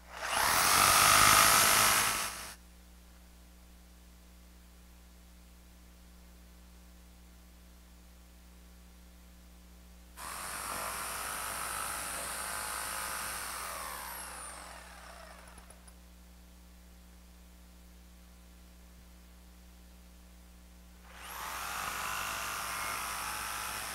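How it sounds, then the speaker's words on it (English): Jigsaw cutting out waste wood in three separate bursts, a loud buzzing rasp at the start and two longer cuts later, with a steady low hum between them. "Now I'm going to grab the jigsaw and just cut out that waste."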